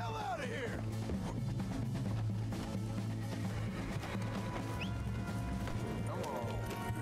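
Horse hooves clip-clopping and a brief whinny in Red Dead Redemption 2, set against steady game ambience and music, with a voice talking over parts of it.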